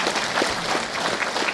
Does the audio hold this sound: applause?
yes